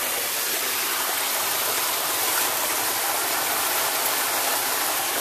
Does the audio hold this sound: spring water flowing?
yes